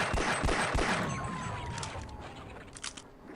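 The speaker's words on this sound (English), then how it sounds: "So we'll kill it with 5 shots from the pistol" Pistol shots fired at a military turret in Half-Life: several sharp, loud reports in quick succession early on, then a ringing electronic tone and fading mechanical clatter.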